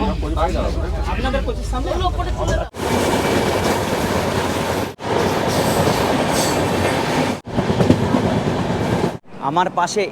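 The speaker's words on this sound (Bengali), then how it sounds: "এইটা রয়েছে মহারাজা এক্সপ্রেস এইটা কিন্তু সব থেকে আমাদের বলা যায় কস্টলি ট্রেন" Maharaja Express luxury train running on the rails at a Rajasthan station, a loud steady rumble of wheels and cars rolling past close by, broken by brief gaps, with talk at the start and end.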